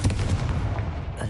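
Confringo blast spell in Hogwarts Legacy, a quick series of sharp fiery bursts with low thumps, close and fairly loud over a brief moment.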